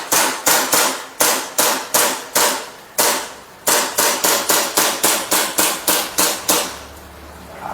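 A 2011 Hi-Capa 6.0 gas airsoft pistol fires about twenty sharp, loud shots. They come in quick bursts with short pauses between them, followed by a faint mechanical hum at the end.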